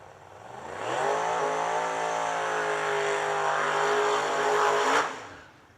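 A turbocharged drag racing car, seemingly a Mustang, does a loud sustained burnout at a drag strip, its engine roaring at steady high revs with tire noise for about four seconds before cutting off abruptly.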